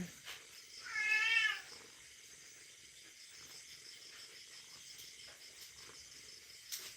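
A patient stray cat lets out a single short meow early on, close and clear, followed by quiet room ambience with faint rustling for the rest of the clip.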